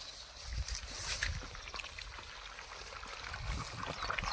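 Borewell water gushing steadily into a soybean and sugarcane field, a continuous rushing, gurgling flow heard up close with low rumbles and no break.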